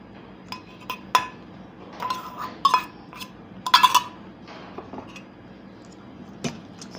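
A utensil scrapes and clinks against a frying pan while Chiapas cheese and egg are stirred together, sharp intermittent taps and scrapes over a soft sizzling background.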